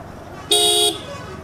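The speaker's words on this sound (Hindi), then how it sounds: "इतना ट्रैफिक रहता है।" A single loud car horn honk lasting under half a second cuts through steady street traffic noise, heard from a motorcycle ride on a crowded route.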